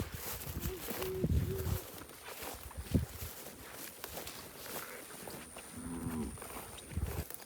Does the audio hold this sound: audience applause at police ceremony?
no